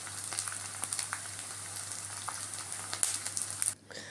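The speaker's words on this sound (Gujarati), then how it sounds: "આવી રીતે આપણે આ બધા જ ગુંદરને તળી લેવાનો છે." Gond, an edible gum, fries in hot oil, giving a soft, steady sizzle with scattered small crackles and pops. The sizzle is faint and close, then drops away abruptly near the end.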